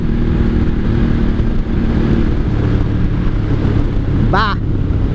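A straight-piped 1983 Honda Shadow VT750C motorcycle rides down a back road, a steady low engine drone close by throughout, with a brief sharp sweep near the end.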